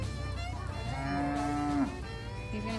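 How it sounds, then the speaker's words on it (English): A cow on a farm during corn harvest lets out one long, loud, drawn-out moo that rises and then falls, heard close against a low background rumble. "He's gonna feed the cows."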